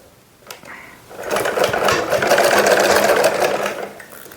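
A sewing machine stitches a chair seat cover with elastic, starting after a brief pause and running steadily at close range for several seconds, alone with no voices.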